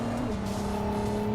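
A Ferrari hybrid sports car with a massive engine accelerates, its steady rising drone close and fairly loud, with no talking over it.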